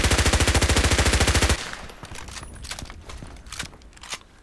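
In the game Contract Wars, an MP5k fires a loud, rapid automatic burst of evenly spaced shots for about a second and a half. Softer crunching footsteps and scattered clicks follow.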